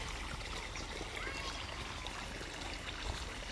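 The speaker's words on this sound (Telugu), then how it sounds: "ఈరోజు అయితే తోటలో నేను నీళ్ళు కడుతున్నా" Irrigation water runs steadily into garden channels on a farm, a continuous close rushing trickle filling the whole stretch at an even level.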